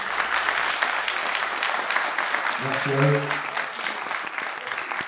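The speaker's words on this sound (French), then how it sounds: "Merci de les applaudir énormément." Audience applause at the opening of a French film festival, a dense steady clatter of many hands filling the room, with a voice speaking briefly over it partway through.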